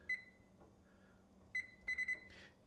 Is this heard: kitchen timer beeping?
yes